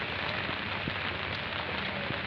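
Steady rain patters on a surface, a dense, even hiss with occasional louder drops and no voices, filling the whole stretch.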